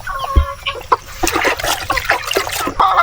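Native chickens clucking and squawking while being bathed to get rid of lice, with close, sharp bursts of fowl calls over splashing and trickling water.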